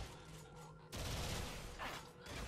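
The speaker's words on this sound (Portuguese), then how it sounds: "Opa, levando tiro pelas costas." Gunfire in the video game Warframe crackles in fairly quiet bursts, with one sharp volley breaking in partway through and continuing as a dense, rattling fusillade.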